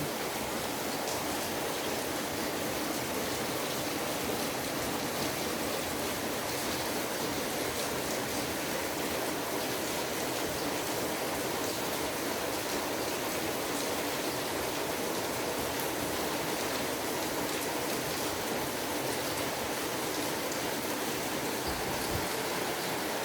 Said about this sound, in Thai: มาดูฝนตกเหรอลูก